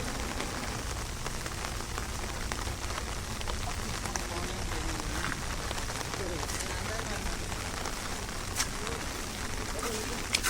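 Heavy rain drums steadily on a tarpaulin canopy in a dense, even hiss that lasts the whole time. Voices sound faintly underneath.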